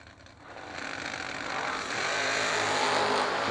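Drag race cars, a 1972 Vega GT and the Purple Haze Roadster, roar at a Christmas Bash drag race event, engine noise building steadily from moderate to loud and staying strong as the run continues, no talk.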